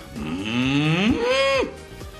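A human voice imitates a cow mooing as a vocal exercise, one sustained moo that glides upward in pitch, holds, then drops off, loud and close with no other sound.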